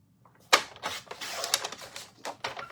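A paper cutter slices through two greeting cards: a quick, close series of crisp clicks and scraping rasps, irregular and fairly quiet, with no voices.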